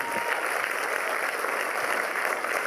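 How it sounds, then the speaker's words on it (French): A crowd at the Liège FIFPL 2013 opening gala keeps up sustained, uniform clapping, a continuous wash of applause with no pauses. "je voudrais vraiment qu'on les applaudisse bien fort pour tout le travail qu'ils ont fourni"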